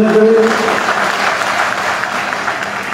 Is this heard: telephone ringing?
no